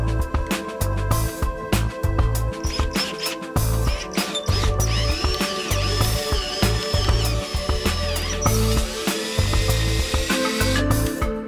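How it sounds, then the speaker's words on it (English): A power drill whines in bursts with pauses between them, the bit grinding against a metal propane BBQ burner part at close range. "So I'll drill the hole, tap this"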